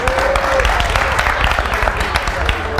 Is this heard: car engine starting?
no